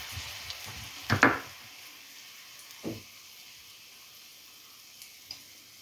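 Onion paste sizzles and fries in a pan for egg curry, a burst of stirring around the first second, then a steady soft hiss with a few faint scrapes, no voices.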